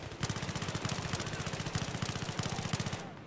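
Rapid MP7 submachine gun fire in Battlefield 3, a dense run of fast shots with brief pauses breaking it into short bursts, steady and fairly close, with no talking.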